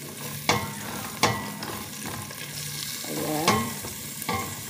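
Garlic stirring and sizzling in a hot pan for beef nilaga, with repeated sharp utensil scrapes over a steady frying hiss and a brief word spoken near the end.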